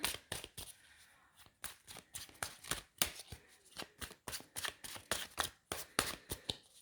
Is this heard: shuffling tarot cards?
yes